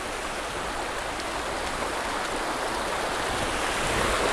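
A gently flowing forest stream in Nelliyampathy, Palakkad, makes a continuous, close rush of water that holds steady throughout with no voices.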